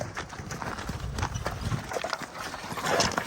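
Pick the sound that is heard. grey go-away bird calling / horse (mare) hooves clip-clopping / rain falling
horse (mare) hooves clip-clopping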